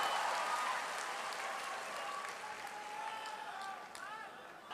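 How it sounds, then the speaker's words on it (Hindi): Audience applause for a teacher introduced on stage, a steady wash of clapping that holds for several seconds and fades slightly toward the end. "जोरदार ताली मधुकर सर के लिए।"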